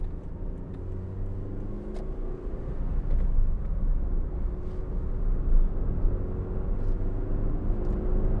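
Inside a 2007 Suzuki Swift 1.5 GLX five-door driving on the road, a low steady engine and road rumble that swells slightly as the car accelerates, with faint ticks over the drone.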